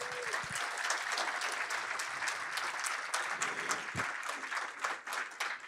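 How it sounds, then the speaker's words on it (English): An audience at the opening session of a data conference applauds its volunteers, a full, sustained round of clapping from a large room that holds steady throughout, with a faint voice briefly audible early on. "Can we give them a round of applause?"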